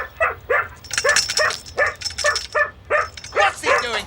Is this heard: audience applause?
no